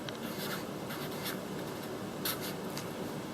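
A pen or pencil writes steadily on paper at close range, a continuous soft scratching with a few brief louder strokes, with no voices.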